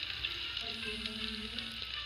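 Food fries in hot oil at a burger joint, a steady close sizzle with faint tonal hum layered in, no voices.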